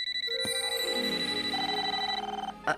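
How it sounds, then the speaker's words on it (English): A toaster gives a bright ringing tone like an old telephone bell, sustained and fading, followed by a short clatter at the end. "Your toaster's ringing."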